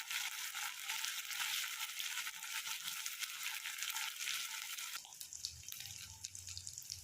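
Garlic paste, turmeric and salt sizzling and frying in hot oil in a pan for a fish curry, a steady crackling hiss throughout with some stirring, faint and close.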